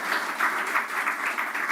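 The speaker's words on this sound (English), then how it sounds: "Can you please join me in giving him a resounding round of applause?" A seated audience applauds steadily at the official commissioning of Zenith Bank's Manchester branch in the UK, honouring the bank's founder and chairman. Dense, even clapping fills the whole moment at moderate loudness with no break.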